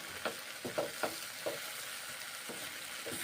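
Maggi noodles with added sauce cooking in a pan make a soft, continuous sizzle and frying hiss, with several quick stirring scrapes clustered early and one later, close but fairly quiet.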